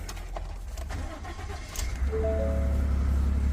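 A used truck at an auction yard cranks briefly and catches, settling into a steady close idle with a low hum and a faint whine, with no one speaking.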